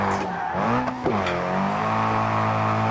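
Car in the BeamNG.drive game revving hard as it breaks into a drift, engine pitch dipping and then climbing with a brief tire squeal, loud and close with no talk.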